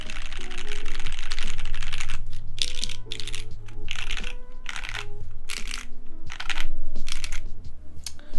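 Rapid mechanical key clacks from a brass-cased TKL keyboard with PBT keycaps, loud and close in uneven bursts with short pauses, steady typing over a low background hum.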